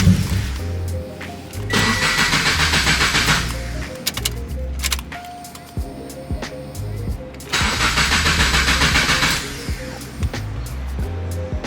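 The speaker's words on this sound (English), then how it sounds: "But listen to this cold start though." Mitsubishi Evo engine cold-starting: repeated starter cranking in two long bursts separated by pauses, loud and close, with the engine sputtering and catching briefly between attempts.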